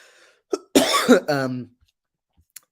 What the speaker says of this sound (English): That's why I coughed.